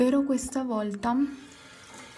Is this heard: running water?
yes